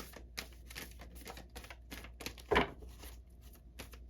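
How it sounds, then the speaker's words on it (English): Tarot cards being shuffled by hand, heard as a series of soft, quick papery flicks and riffles at an irregular rhythm, close and fairly quiet, with one brief louder snap partway through. "I'm going to keep shuffling because it just doesn't feel like the right card"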